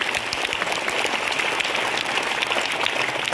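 Steady applause from an audience of students at a school prize-giving, many hands clapping continuously for a few seconds, moderately loud and without pauses.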